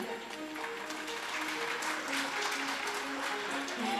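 An audience at a stage show in Patna claps steadily and loudly, with the dense applause sustained throughout under faint musical tones.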